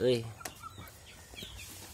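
Domestic village chickens, some sick with fowl pox, cluck and squawk nearby in short bursts, with a louder call at the start and quieter clucks after.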